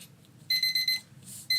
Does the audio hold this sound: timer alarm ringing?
yes